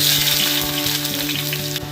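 Finely chopped onion hits a spoonful of hot oil in a pan, giving a loud, dense, continuous sizzle and crackle that stays close and steady throughout.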